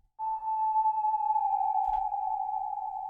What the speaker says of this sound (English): it's just a sine wave with a bunch of reverb and a little pitch bend, and then it's just like a little whale call